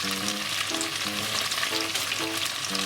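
Tofu steak fries steadily in a pan, a continuous close, loud sizzle with faint stirring or scraping and no talk.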